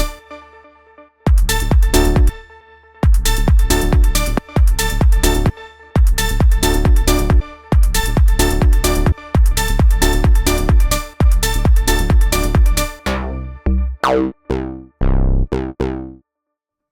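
A bright FM-style synth plays a melodic techno pattern in repeated rhythmic bursts, loud and close with no voices, the final notes trailing off into reverb and delay-like echoes.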